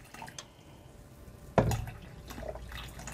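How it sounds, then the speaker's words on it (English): Hot water is poured into a Nesco electric canner holding jars of chipotle tomatillo salsa, a faint splash and trickle with one louder gush partway through, close and quiet. "So I have some hot water that I'm just going to pour in until they're covered by 1"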